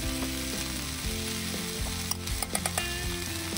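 Chili powder is stir-fried with fernbrake and taro stems for yukgaejang, a steady close sizzle with a few quick scraping stirs near the end and no voices.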